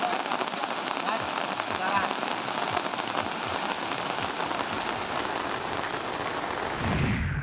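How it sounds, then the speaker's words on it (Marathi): Heavy monsoon rain in Palghar with strong wind pours in a dense, loud, continuous hiss of drops hammering surfaces, steady throughout and cutting off sharply at the end. "वादळी वाऱ्यासह मुसळधार पाऊस सध्या पालघरमध्ये कोसळतोय"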